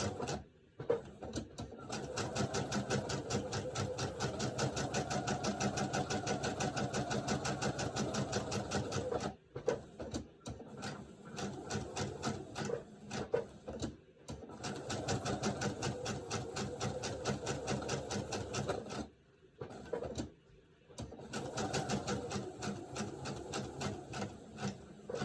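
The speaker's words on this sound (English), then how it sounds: "I'm putting on a basting stitch, and I've got a black thread in it" A sewing machine stitches a basting seam with black thread in long, fast, even runs of rapid mechanical chatter, stopping briefly several times and then restarting, close and quiet with no talk.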